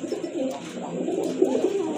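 Satin pigeons coo softly and repeatedly at close range, low burbling calls in a steady run with a few stronger coos toward the end.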